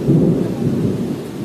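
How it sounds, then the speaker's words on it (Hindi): Loud, close thunder rumbles continuously over heavy rain pouring down during a daytime storm, a dense steady roar with no voices. "देख लो आवाज आ रही कुछ ज्यादा। आज तो भाई पूरा दिन ही अलग है बारिश वाली है पूजा।"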